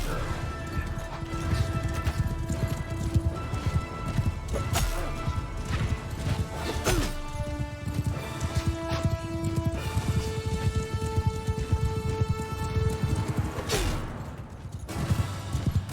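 Hooves pound in a battle in the Mount and Blade Bannerlord video game, a busy rapid drumming of galloping horses mixed with clashing impacts and bright metallic tones, steady and fairly loud throughout.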